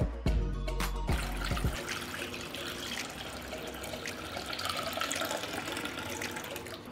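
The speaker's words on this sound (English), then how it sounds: "I will pour water up to the height of the lid." Water pours steadily into a pot holding glass jars set on a kitchen towel, with a few clinks and knocks at the start, then a continuous rushing fill close by with no talking.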